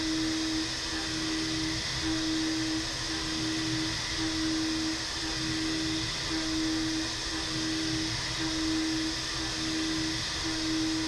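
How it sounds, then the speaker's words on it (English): HAAS VM3 vertical mill hard-milling hardened steel, a continuous loud spindle whine with a dense cutting hiss and slight pulsing as the tool moves, no voices. "the machine move like this, see it cut steel that is so hard"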